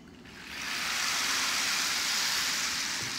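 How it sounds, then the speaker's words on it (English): A rain stick pours out a steady, hissing cascade like falling raindrops, swelling after a brief quieter start and holding a dense, even shower of pattering grains for several seconds with no voices. "a stick that has that make the sounds of raindrops"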